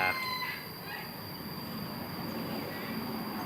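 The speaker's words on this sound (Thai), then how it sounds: "แต่ว่าขันดีโอเคมากเลยครับ ขันโอเคสุดๆเลย" A plain, ordinary-looking Thai fighting rooster crowing outdoors, its call rising loud and close at the start over steady insect-like background hiss, then fading into ambient noise.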